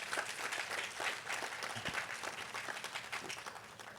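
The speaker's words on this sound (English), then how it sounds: "Let's give all of the participants a round of applause" An audience at a school district state-of-the-district address applauds the participants, a faint, dense wash of clapping from a distance that holds steady and slowly fades.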